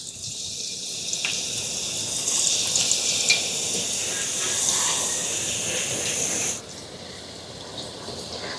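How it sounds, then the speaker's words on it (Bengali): Potato chips fry in hot oil, a loud steady bright hiss of bubbling and spattering that runs for several seconds and then drops abruptly to a quieter simmer, with no voices. "সব চিপসগুলো আমি একই পদ্ধতিতে ভেজে নেব।"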